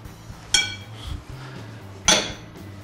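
A fork mixing soft, room-temperature butter and sugar in a bowl strikes the side twice, giving two sharp, close metallic clinks about a second and a half apart, with quiet scraping between them.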